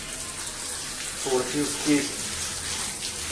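Running water soaking the thick coat of an Alabai shepherd dog during grooming before shampoo, a steady close hiss and splash that continues under a person's speech.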